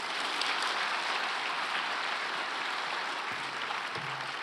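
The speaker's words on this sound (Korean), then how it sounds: "우리 한번 박수로 환영하겠습니다." A church congregation applauds to welcome a pastor at a 40th-anniversary special dawn prayer service: a steady, dense wash of clapping that holds at an even level throughout, fairly distant and without voices.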